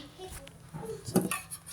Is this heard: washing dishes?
yes